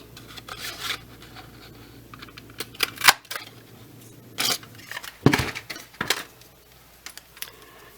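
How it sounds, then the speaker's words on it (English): A paper punch pressing a petal shape out of patterned designer paper, several sharp clacking clicks and crisp paper handling rustles, close and loud against a quiet background. "we're going to punch out this petal right here"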